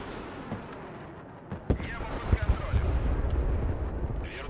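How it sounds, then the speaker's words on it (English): Grenade launcher rounds fire and burst in the strategy game Broken Arrow, a few sharp thumps landing among continuous battlefield rumble, with a voice talking throughout. "The 40mm grenade launcher."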